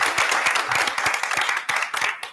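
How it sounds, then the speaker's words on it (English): A crowd at a school district event claps steadily and densely all the way through, close and loud, a full round of applause with no break. "Big round of applause."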